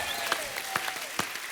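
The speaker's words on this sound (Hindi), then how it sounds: "तालियां होनी चाहिए हमारे सभी प्लेयर्स के लिए।" A television comedy show's studio audience applauds the invited sports players, a brief burst of steady clapping with a few sharper claps standing out, moderately close and without talk.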